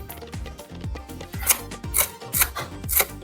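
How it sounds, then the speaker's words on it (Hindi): Coriander leaves being chopped for a chutney, a run of firm knife strokes on a board with light rustling of leaves, the cuts coming steadily about twice a second and growing slightly louder toward the end. "चटनी को खुशबूदार बनाने के लिए थोड़ा सा धनिया पत्ता काट"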